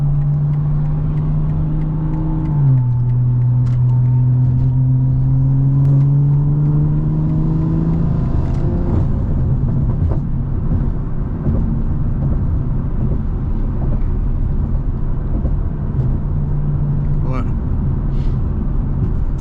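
A 500-horsepower BMW cruises on an open freeway, engine drone shifting pitch as it changes gear and accelerates, then settling into steady loud road and wind noise, with a person talking over it.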